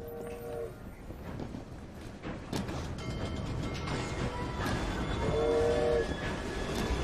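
A steam-era train in Assassin's Creed Syndicate rumbles along with clanking, ratcheting mechanisms, sounding its horn in two tonal blasts, one faint at the start and a louder one near the end, with no talking.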